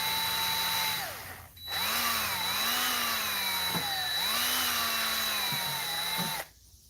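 A power drill bores holes into a plastic toy lantern, its motor whining steadily at close range for several seconds with slight pitch dips as the bit bites, then cutting off.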